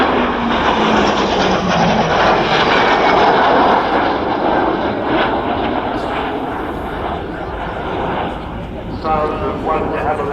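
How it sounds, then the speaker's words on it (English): Jet engines of a de Havilland Vampire with one Goblin 35 and a Gloster Meteor with two Rolls-Royce Derwent 5s at an RAF Cosford airshow, a loud continuous roar sweeping past, steady throughout with a slight surge near the end. "Sounds of 1 de Havilland Goblin 35 in the Vampire, 2 Rolls-Royce Derwent 5s in the Meteor"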